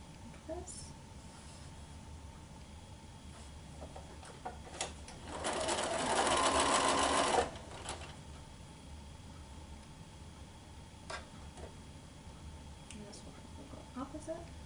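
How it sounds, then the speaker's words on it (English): A domestic sewing machine runs in one steady burst of about two seconds while stitching quilt block pieces, fairly close and moderately loud, with quiet handling sounds and a voice speaking before and after. "then I'll be ready to sew my next piece to each block"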